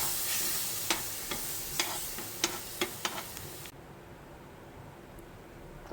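Roasted semolina and milk hiss and sizzle in a pan for mango halwa, with a spoon tapping the pan several times as it stirs, steady and close before the sound drops off abruptly.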